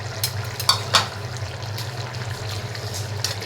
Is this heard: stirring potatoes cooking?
yes